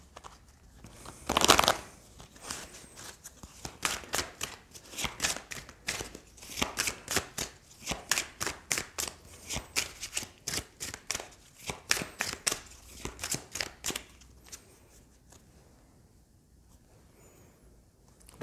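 Oracle des miroirs oracle cards being shuffled by hand at close range, a long run of crisp, rapid riffling flicks that comes in irregular bursts with one loud slap near the start, then trails off into quiet at the end.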